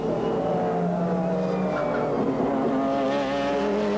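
GT race cars from the 1996 BPR Global GT Series racing at the Curitiba circuit in Brazil, a loud sustained engine roar with shifting pitch as the pack passes.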